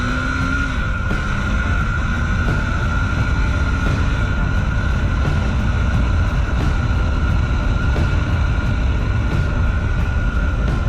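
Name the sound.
KTM 390 Duke motorcycle engine revving under throttle while riding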